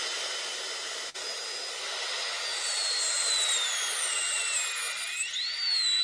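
Dental bur whining at a high pitch as it cuts into a composite restoration, a steady drilling tone that glides up and down in pitch, close and alone.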